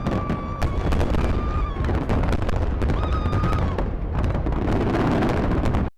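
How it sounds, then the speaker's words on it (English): Macy's Fourth of July fireworks over New York City pop and boom densely and continuously, with crackling bursts and occasional whistles heard from a distance. "In New York City, crowds gathered for the annual Macy's 4th of July fireworks spectacular."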